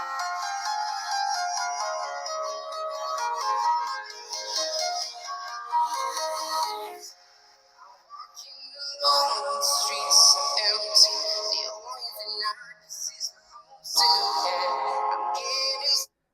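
Music playing through the stereo speakers of a Tecno Spark 20 Pro Plus phone, a full, steady stream of sound with one brief dip midway and then continuing to the end.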